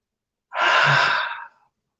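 A single long, deep exhale of breath, a breathy rush lasting about a second, close and fairly loud, as part of a deep breathing exercise in a morning routine.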